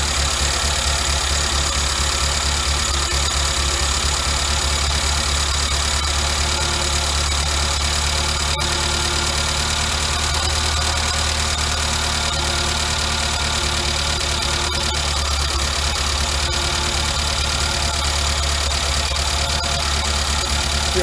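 A car engine fitted with a Weber carburetor idles steadily and evenly after its air mixture screw is turned in, a continuous close mechanical hum and rattle with no voices over it.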